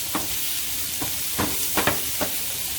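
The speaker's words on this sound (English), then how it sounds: "Okay, so this is sauteing." Sautéing bacon for a keto bacon Alfredo sauce, with a steady close sizzle in the pan and several short scraping stirs spaced through it, no talking.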